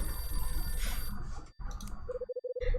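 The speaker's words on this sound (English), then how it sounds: "this is a bad time for the phone to ring" Phone ringing in the video game Last Window: The Secret of Cape West: after a brief cut to silence, a bright electronic ringtone pulses in rapid repeated chirps against a soft background of game ambience.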